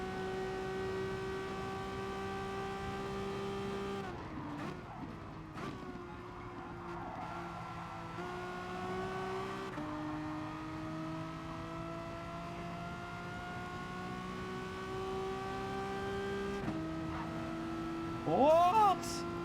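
Sustained high-pitched GP2 race car engine note from Gran Turismo Sport, holding steady tones with shifts in pitch and a brief rising rev near the end, continuous and fairly close.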